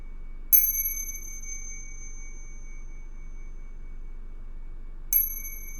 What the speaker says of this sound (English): I really want to ring the bell.